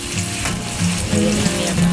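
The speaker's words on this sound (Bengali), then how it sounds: "পেঁয়াজ কুচি। দিয়ে দিচ্ছি, তো পেঁয়াজটা ভাজা" Chopped onion fries in a pan for a yogurt chicken dish, giving a loud, close, continuous crackling sizzle that swells slightly as it goes on, with no speech.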